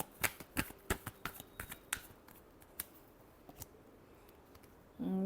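Tarot cards being shuffled during a weekly Pisces horoscope reading, a quick run of crisp riffling snaps and flicks close up, thinning into sparse taps before a short burst of other sound at the end.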